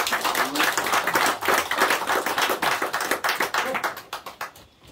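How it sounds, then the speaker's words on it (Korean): A church congregation claps in a dense, rhythmic patter, with many hands blending together before the applause thins and fades near the end. "하나님께 영광의 박수를 올려드리겠습니다."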